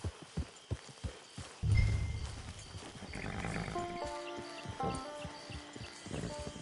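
Horse hooves clopping in an open-world video game camp, a string of distinct hoof thuds at the start, then a low rumble and game music tones filling the rest.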